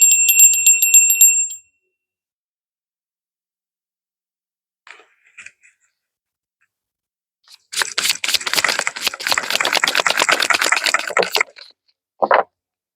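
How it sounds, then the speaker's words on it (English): A small bell rung once before a tarot card reading gives a bright, clear ring that fades within about two seconds. Silence follows, then a few soft taps and a long rustling shuffle of cards. "I'm going to ring the bell, and then we're going to get started."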